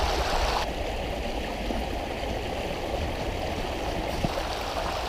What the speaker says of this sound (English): A lovely little valley in here with a river running through it and plenty of woodland.